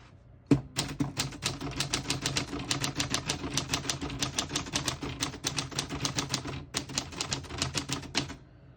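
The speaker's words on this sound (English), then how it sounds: "I'll type a sentence in red on the next line and switch from black to red." Typing on a 1946 Smith-Corona Clipper portable typewriter, close and crisp, with a steady stream of rapid key strikes after a sharp opening clack and a brief pause near the end.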